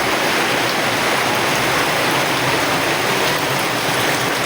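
Heavy rainwater pours down like a waterfall, a loud, unbroken roar of rushing, splashing water that stays steady throughout with no voices over it.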